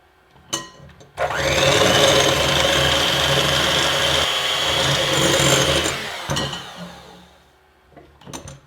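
An electric mixer whips egg whites with cream of tartar for meringue cookies, a loud whirring drone that starts abruptly, runs steadily for about five seconds and then winds down, with brief clatters before and after.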